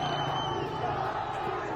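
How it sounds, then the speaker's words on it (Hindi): Roar of a large crowd of protesters in Tehran during unrest, a dense, continuous mass of shouting voices, loud and sustained throughout. "एक तरफ लोगों की भारी भीड़"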